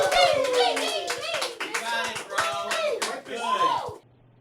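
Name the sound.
audience cheering and clapping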